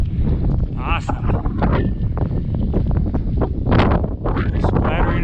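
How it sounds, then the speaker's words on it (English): Gusty wind at a mountain lake roars steadily across the microphone, with rain spattering in uneven bursts and a voice briefly heard over it. "Splattering of rain along with the wind. At the lake."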